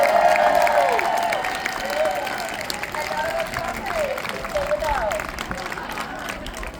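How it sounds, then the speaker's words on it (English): A crowd at an outdoor protest rally applauds volunteers, clapping and scattered cheers fairly loud at first and then settling, with voices mixed in. "Let's give them a huge round of applause."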